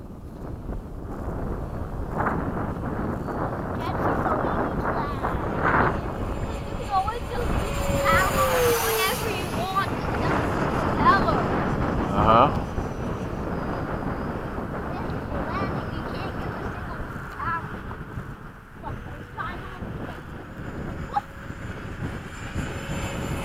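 An F-15 jet, flown after dark at a large-scale event, makes a downwind pass as a rising and falling engine roar heavily mixed with microphone wind buffeting, while people talk nearby.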